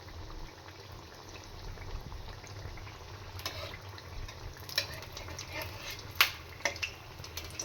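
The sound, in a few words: food frying in oil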